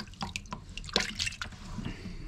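Paint spray respirator masks are rinsed in a container of clean water, with soft close splashes and drips in short bursts, fairly quiet.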